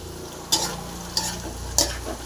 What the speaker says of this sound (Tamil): இது பாவக்காய் போட்டு நல்லா க்ளீனாக ஃப்ரை பண்ணிக்கலாம்